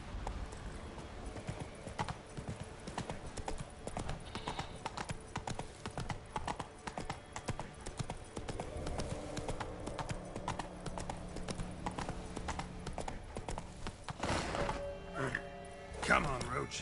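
Hooves of the horse Roach clip-clop steadily in The Witcher 3, a rhythmic hoofbeat running throughout beneath game ambience, with someone talking intermittently over it.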